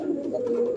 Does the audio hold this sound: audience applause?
no